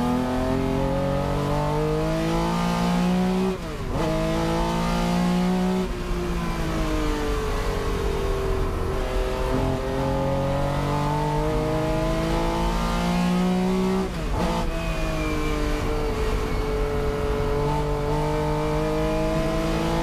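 Vintage Porsche race cars, including a 1968 Porsche 911 T/R, racing at a historic reunion event. Loud, continuous engines rev and shift through gears in a sustained roar that surges and dips as cars pass close by.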